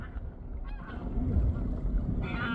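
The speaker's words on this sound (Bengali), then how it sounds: "দেখেন পাখি দৌড়াচ্ছে এটাকে বলা হয় বাল্যা হাঁস" Whistling ducks call from the bank of a river where fish are netted, a few honking, goose-like cries over steady wind and water noise, at moderate distance.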